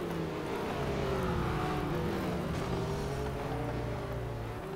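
A McLaren 765LT engine in Real Racing 3, loud and continuous, revving up and down through gear shifts at racing speed, with no talk over it.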